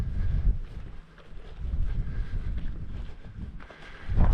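Strong gusts of wind batter an exposed island, rising and falling in loud rumbling surges with buffeting on the microphone, strongest at the start, middle and end.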